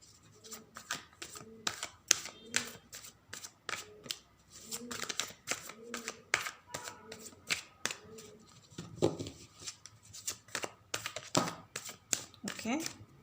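Tarot cards shuffled by hand during a reading, a run of quick crisp riffling and slapping bursts that come in irregular clusters, close and fairly quiet. A voice is also heard faintly among the card sounds.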